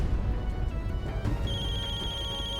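Mobile phone ringtone chiming in a room, a repeating electronic melody that settles into a sustained tone, heard clearly over low background noise.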